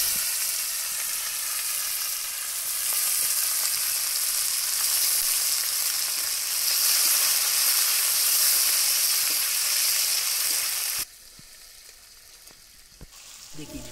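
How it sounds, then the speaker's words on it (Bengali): Chopped onions sizzle steadily in hot oil in a pan, with sugar already added, making a loud continuous frying hiss that suddenly drops to a quieter simmer near the end. "এইবারে আমি দিয়ে দেব পেঁয়াজ কুচি।"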